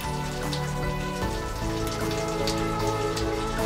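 Synthetic rain from a dynamic rain generator, a dense, continuous wash of drops hitting surfaces with a steady hiss, layered under sustained tonal drones and occasional brighter splashes.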